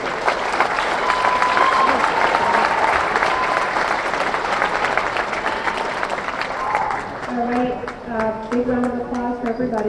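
An audience at a senior-night boys' high school game breaks into loud, dense applause and cheering that gradually thins out, with voices and a few sustained tones emerging near the end.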